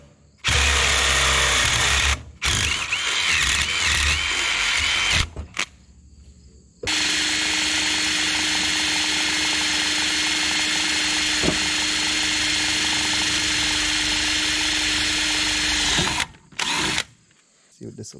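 A power drill whirs in bursts, first a few short runs, then one long steady high-pitched spin, stopping and starting close by.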